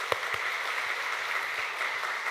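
A church congregation applauds the Hallelujah choir after a worship hymn, a steady, fairly soft wash of clapping with a few sharper claps near the start and no talking.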